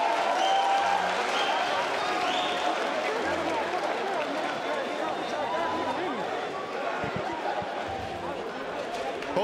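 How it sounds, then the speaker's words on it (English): Arena crowd at a bare knuckle boxing brawl, continuous dense applause and cheering with a loud roar and voices mixed in, close and sustained throughout. "Crowd likes it."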